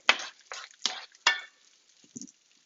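A non-stick spoon scoops cooked food out of a pan, giving four short scraping strokes in quick succession, then a faint soft clink near the end.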